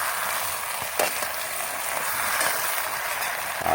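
Alugbati greens stirred in a frying pan with light seasoning, a steady sizzle broken by a few scraping clacks of the spatula against the pan.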